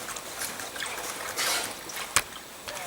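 Fluid gurgling and trickling as it drains from a tank transmission, a close, steady wet flow with a brief sharp knock near the end.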